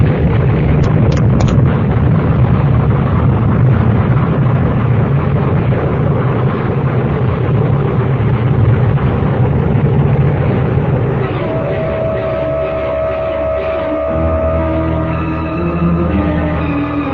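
A radio-drama explosion effect: a loud, sustained roaring blast with rumbling debris that fills most of the clip, then settles into a lower rumble with a tonal hum near the end, heard alone without talk.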